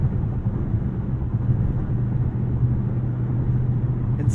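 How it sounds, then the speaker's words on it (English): Tire and road noise inside a Dodge Charger Scat Pack Widebody on huge tires, a steady low rumbling drone with a faint whoosh of wind, heard from the well-insulated cabin. "There's some tire noise. I mean, you're dealing with huge tires."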